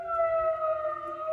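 A steady wailing siren with strong, sustained tones holds on through the whole moment, with no talk over it.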